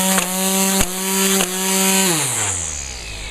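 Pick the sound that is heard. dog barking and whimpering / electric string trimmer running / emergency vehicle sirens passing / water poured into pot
electric string trimmer running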